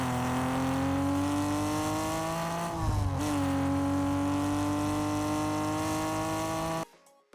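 A car in the Fortnite video game runs with a steady, loud engine note that dips briefly and recovers, holding a constant revving drone for several seconds before cutting off abruptly near the end.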